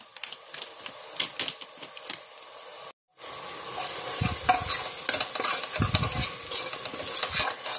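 Turmeric, coriander powder and garam masala fry in hot oil for a chicken masala gravy, a steady close sizzle with repeated scraping stirs and spoon knocks, briefly cut off midway.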